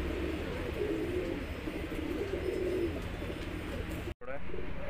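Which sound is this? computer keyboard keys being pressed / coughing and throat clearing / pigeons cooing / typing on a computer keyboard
pigeons cooing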